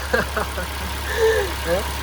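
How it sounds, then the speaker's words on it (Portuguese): A Ford EcoSport engine idles with a steady low hum throughout, while someone talks over it close by. "Motor funcionando perfeitamente."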